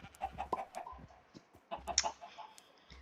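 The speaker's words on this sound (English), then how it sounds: "then over here we have chickens" Soft, quiet clucking from chickens in the video game Minecraft, a few short calls scattered over a low background.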